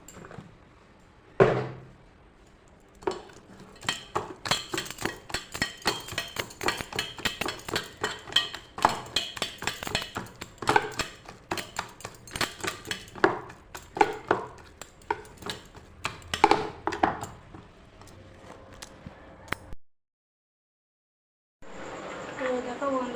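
Spiced lentil batter with cumin, coriander and turmeric is beaten in a bowl, making a rapid, dense run of clinking and tapping strokes that stops abruptly, followed by a short silence and faint noise.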